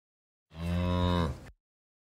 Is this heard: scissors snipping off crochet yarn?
no